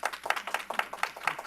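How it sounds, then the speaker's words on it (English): A small group of people clapping at a city budget hearing to welcome the city manager back, steady rhythmic applause heard fairly close, with no talking over it. "We had to clap for you, Chief."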